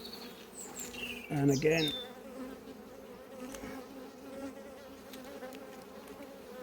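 Honeybees hum steadily around an open hive in an apiary, the swarm's drone close and continuous, with a louder burst of buzzing early on as a bee passes near; a voice speaks briefly under the insect noise.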